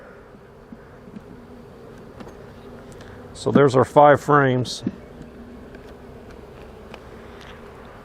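A steady low hum of honey bees around an open hive drones throughout, with a beekeeper speaking briefly over the buzzing midway.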